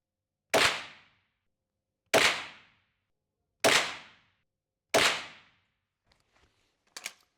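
A Hatsan Escort .22LR pistol loaded with Fiocchi ammunition fires four loud, sharp reports at evenly spaced intervals, followed by a few faint clicks and one quieter final crack.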